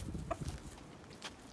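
Marans hens cluck softly in a farmyard poultry setting, a few short faint clucks and calls scattered at low volume with no talk.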